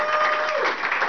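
Comedy club audience applauding during a stand-up set, a steady dense wash of clapping lasting the whole brief moment, moderately loud with no talk over it.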